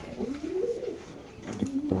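At a pigeon farm, a female pigeon gives a low, rolling coo that rises and falls, followed by a second shorter coo, close and clear over faint background noise.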